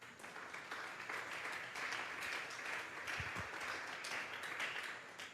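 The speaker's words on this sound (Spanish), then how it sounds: "Dale un fuerte aplauso pues al Señor." A congregation applauds during a Sunday church service, a dense, steady wash of clapping heard from some distance and fairly faint throughout.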